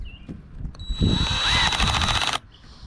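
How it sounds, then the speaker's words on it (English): A power drill fitted with a 5/8 inch bit drills a hole during a kayak anchor trolley installation. It gives one loud, close whine that lasts about a second and a half, then stops abruptly. "drill that hole with our 5/8 drill bit"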